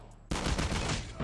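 Rapid gunfire in the mobile shooter game COD Mobile, a loud, dense burst of automatic shots that bursts in abruptly after a short quiet lead-in and keeps rattling for about a second.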